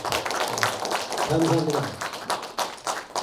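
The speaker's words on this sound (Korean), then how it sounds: "여러분 다 같이 박수로 한번 다시 축하해 주세요." An audience at a poetry literary festival applauds, with steady pattering claps filling the room while someone speaks briefly over it.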